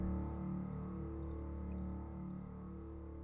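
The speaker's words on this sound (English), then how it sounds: "The cricket resumed its song." A cricket chirps in regular short bursts, six evenly spaced trills over a steady low background hum, fairly close and clear.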